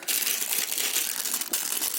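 A plastic bag of Lego pieces is torn open and crinkles loudly up close. The rustle runs almost without a break for a couple of seconds, with one sharper crackle midway.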